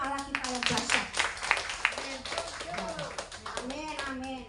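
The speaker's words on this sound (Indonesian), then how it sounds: "Tepuk tangan untuk Allah kita yang dahsyat." A church congregation claps hands during a sermon in Indonesian, a dense run of many sharp claps carrying on under a preacher's voice and scattered voices.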